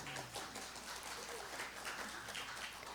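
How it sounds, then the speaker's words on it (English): An audience claps steadily throughout a Center for Spiritual Living service, a dense, even wash of applause held at a fairly low, distant level with no clear talk over it. "wasn't going for the applause, but that was nice"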